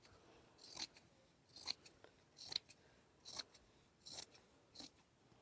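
Scissors snip through a towel in a run of about eight sharp, separate cuts spaced unevenly, quiet and close in a home sewing space.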